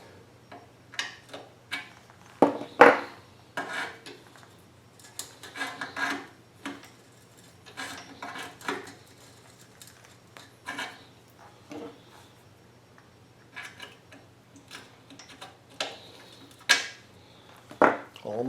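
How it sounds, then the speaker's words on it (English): A hand-held repairman's reamer enlarges a step-drilled hole during a Champion 6250 generator extended run time fuel kit install, giving short, irregular scraping and ticking strokes that repeat near and fairly quiet, with no talk. "I'm going to use a repairman's reamer to get just the last little bit"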